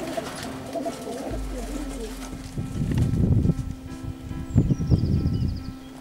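Pigeons coo in low, throaty bursts close by, with a steady hum in the background and soft rustling between the calls.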